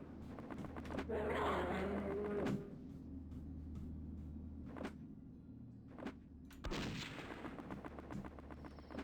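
Flare gun shots in the shooter game Blood fire in a wide open outdoor area, producing several sharp reports with whooshing trails over a low ambient drone, moderately loud.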